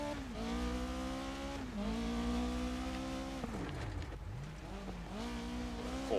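A rear-wheel-drive rally car in Dirt Rally 2.0 revs hard through repeated gear changes, its engine note climbing and dropping in steady cycles, with tire scrabble and skids on a loose surface; loud, close and continuous with no talking.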